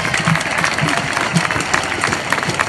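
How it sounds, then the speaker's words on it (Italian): Audience at a talk in Padova giving warm applause to welcome a young university student speaker, dense continuous clapping filling the room, with a faint murmur of crowd underneath. "Date un caloroso applauso a Laura Basso."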